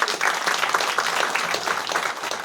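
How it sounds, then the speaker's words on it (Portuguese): A crowd at a quilombo community certificate ceremony gives a warm round of applause for a 70-year-old uncle, a continuous wash of many hands clapping at moderate level without speech. "uma salva de palmas"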